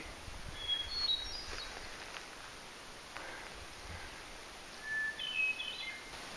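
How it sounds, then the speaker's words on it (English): Faint, clear whistled hermit thrush notes sound in two short bursts, one early and one near the end, over quiet outdoor ambience with light rustling. "It's the hermit thrush. That's the hermit thrush."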